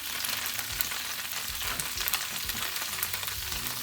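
Eggplant and tofu fry in a pan over medium heat, a steady close sizzle with crackling and popping running throughout, no talk.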